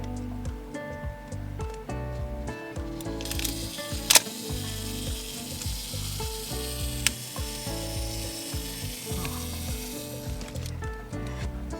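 Film is wound in an Olympus OM-1 film camera, giving a close, continuous ratcheting of gears with a few sharp clicks partway through.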